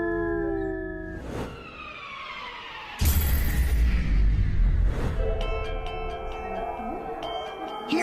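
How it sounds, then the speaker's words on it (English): A gray wolf howls in long, wavering tones that rise and fall, several howls overlapping with others joining in, loud and sustained with a brief noisy burst midway. "Here we see a gray wolf, one of the world's top predators."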